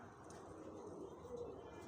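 Pigeons at a rooftop loft coo softly and continuously on a windy, cloudy day. The low, rolling calls sit under a constant rush of wind.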